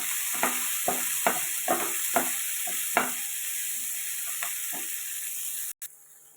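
Onions and three cut green chilies sauté in hot oil for a home-style sambar, with a steady sizzle under a series of distinct scraping stirs from a spatula, close up and without talk, ending in a sudden cut.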